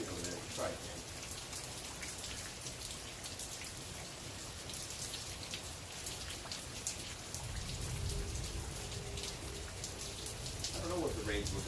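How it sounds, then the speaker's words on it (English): Steady outdoor rain patters on surfaces near a tree removal job site, a constant close hiss with scattered drop impacts and a low rumble swelling toward the end. "I don't know what the rain's looking like today."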